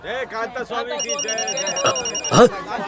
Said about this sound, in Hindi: एरिया के इंस्पेक्टर को फोन लगाओ।